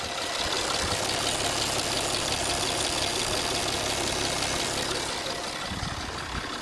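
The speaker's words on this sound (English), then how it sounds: "sounds like the higher pressure fuel pump is on its last legs" Citroën C6 engine running with its cover removed, a suspected failing high pressure fuel pump or fuel pump cam belt giving a steady, loud mechanical clatter over a continuous low idle drone.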